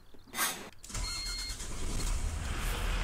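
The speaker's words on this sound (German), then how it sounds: "Wenn wir mal den Motor starten" A VW AMD Alamo bus engine starts in the Omsi 2 bus simulator game, a short starter crank giving way to a steady, loud idle that runs on without any talk.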